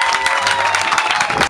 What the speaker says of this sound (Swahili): Si apigiwe makofi jamani